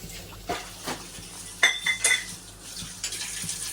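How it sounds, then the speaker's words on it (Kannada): Dishes and cutlery clatter close by, irregular clinks and knocks of pots and plates being handled, with no one talking. "ನಮ್ಮ ಅಜ್ಜಿ ಪಾತ್ರೆ ತೊಳಿತಾ ಇದ್ದಾರೆ"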